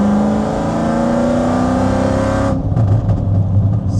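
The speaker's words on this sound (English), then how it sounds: "this is just another fourth gear pull at 60 miles an hour" A car pulls hard in fourth gear from 60 mph, engine droning loud and steady with a rising tone, then a sudden drop as the throttle lifts and wind and road noise take over, heard from inside the cabin.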